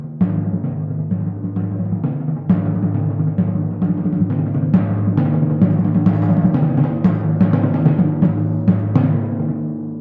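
Timpani roll played as even sixteenth notes, with a steady stream of soft repeated strokes over sustained low drum pitches that change across the phrase, heard alone at moderate volume for about ten seconds.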